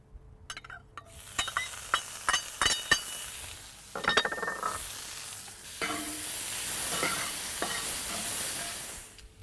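Four slices of diced bacon frying in a pan, with a steady sizzle growing louder midway and sharp clinks and scrapes of a utensil stirring against the pan in irregular bursts, close up with no talking.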